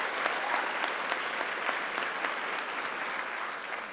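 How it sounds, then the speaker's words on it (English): Sustained applause from a large conference audience at a CancerCon event, dense steady clapping filling a hall for several seconds. "So I'd like to ask you to round of applause for the army of people"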